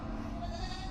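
A goat or sheep on a small farm holding goats, sheep, a pig and a duck gives a brief, moderately faint bleat over steady low background noise.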